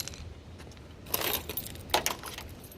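A set of car keys for a 2002 Hyundai Sonata jingles in someone's hand, a quiet start followed by a few close metallic jangling bursts.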